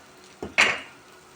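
Rice roasting in a pot for pilaf, heard as two quick, fairly close knocks of a utensil against the pot about 0.15 seconds apart, the second louder and ringing briefly, with quiet room noise around them.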